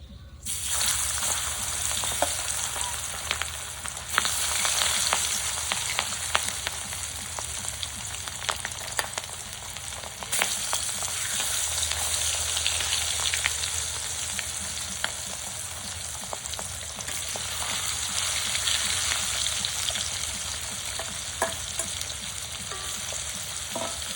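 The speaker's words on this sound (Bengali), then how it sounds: "এই মাছগুলোরা একটু ভাজা হয়ে গেছে," Continuous crackling sizzle of pangas fish frying in hot oil over a clay stove, steady and close, with small pops scattered throughout.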